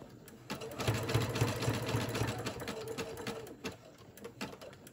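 A sewing machine stitches a Christmas tote in a steady, rapid mechanical whir with fast rhythmic needle beats, running close and fairly loud, with no talking.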